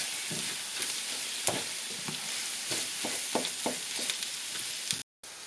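Beef chili sizzles steadily in a pot while a spoon stirs it, giving a continuous frying hiss broken by soft scraping and clunking strokes, close up, with a brief dropout near the end.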